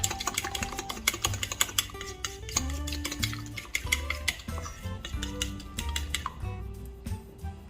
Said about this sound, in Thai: เราก็คนส่วนผสมให้เข้ากันค่ะ